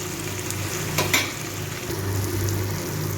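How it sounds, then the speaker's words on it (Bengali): Tomato and green chili fry in a pan, giving a continuous close sizzle with a couple of sharp utensil knocks near the start and steady crackling afterward, with no talk. "এবার এই সব জিনিসগুলোকে আমি একটু ভেজে নেব।"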